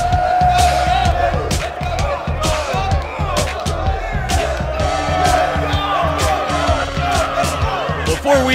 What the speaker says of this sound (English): would you just listen to that capacity crowd here at Fozzie Square Garden